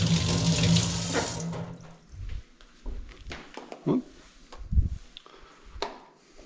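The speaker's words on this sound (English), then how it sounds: "Next up, we've got Serrano peppers. Give them a rinse." Serrano peppers are rinsed under a running kitchen tap for arroz con pollo. Water gushes loudly at first, then gives way to sporadic splashes and handling knocks at the sink.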